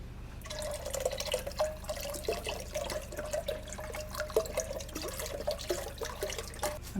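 Water pours steadily into a soup pot, a continuous splashing trickle with a faint rising tone, close by and without speech.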